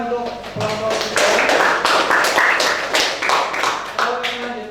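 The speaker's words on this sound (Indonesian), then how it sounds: "Tepuk tangan untuk kelompok kita." A group in a classroom practice session claps together in a dense, steady burst of applause that fills the whole moment, with no one speaking over it.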